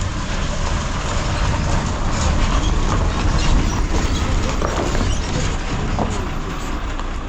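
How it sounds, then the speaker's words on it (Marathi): Konkan Railway train running on the Sangameshwar–Nalasopara route, a continuous loud rumble with rattling clatter throughout, no speech. "आता या सगळ्या ना अशा लाल गाड्या, चांगल्या नवीनवाल्या गाड्या येतात"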